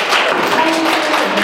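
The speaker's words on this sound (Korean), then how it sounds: "박수 한번 부탁드립니다." Steady clapping from an audience at an artist talk in a gallery fills the whole moment, a dense continuous patter with a faint murmur mixed in.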